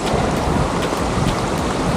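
A waterfall pours in a steady, loud, broadband rush of water with no pauses and no voices.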